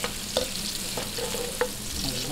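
Chicken sotanghon soup base being sautéed in a pan, with steady frying sizzle and a few stirring scrapes of a utensil against the pan, close and alone with no talking.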